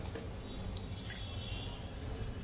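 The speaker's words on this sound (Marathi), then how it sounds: "त्याला मी निथळून घेणार आहे." Boiled spinach, cooled in its cooking water, drains in a colander: a soft, steady trickle and drip of water with faint wet squishing, quiet and close, with no voices.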